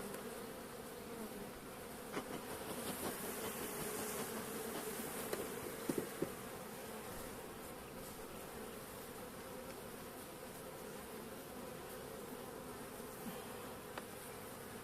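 Caucasian and Carniolan honey bees buzz around an open hive in a dense continuous hum with a few louder passes close by, no voices.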